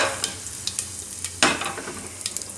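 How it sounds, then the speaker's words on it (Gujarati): Cumin seeds and asafoetida sizzle in hot oil for Gujarati tindora and potato curry, a close, steady crackling fry with a few sharper pops and one louder burst midway. "થોડુંક જીરું આ રીતે લાલ થવા દેવાનું તો એ હિંગ નાખીશું એમાં આપણે"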